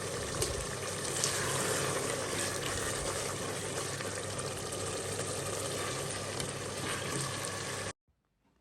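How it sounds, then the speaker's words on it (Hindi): Mutton karahi with coriander and green chilli, still quite watery, sizzles and bubbles steadily in a pan, a loud continuous frying hiss for about eight seconds that then cuts off abruptly to silence. "अभी मैं इसको जो है वो भून रही हूँ।"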